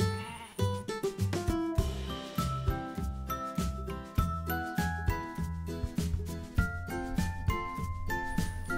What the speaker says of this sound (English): I got lots of videos of animals moving,